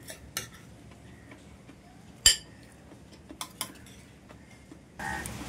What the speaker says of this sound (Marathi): आता आपण या डिशमध्ये काढून घेऊया भाजी।